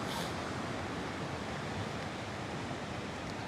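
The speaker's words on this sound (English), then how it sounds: "There's a lot of water coming off this hill." Rainwater from a 100-year storm pours off a hillside into a rising creek near a campsite, a steady rushing wash of moderate loudness with no voices.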